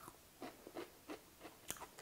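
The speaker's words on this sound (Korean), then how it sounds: "아삭아삭아삭 소리 들리세요, 혹시?" Someone chews cooked lilyturf tuber (maekmundong) simmered in a sweet bean-sprout drink, giving soft, close crunching bites in an irregular rhythm, faint and heard alone.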